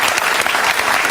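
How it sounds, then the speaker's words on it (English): A studio audience at a televised debate applauds in a brief, dense burst of clapping from many people, loud and close, with no voices over it. "Can you all applaud each other for a pretty civilized affair?"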